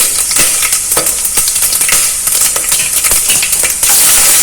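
Star anise, clove, big black cardamom and fennel seeds frying in hot oil in a pressure cooker for veg pulao: a steady, loud sizzle with light stirring clicks and a brighter hiss toward the end.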